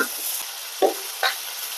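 Cut onion frying in hot oil in a kadai, a close, steady sizzle broken by two quick scraping stirs.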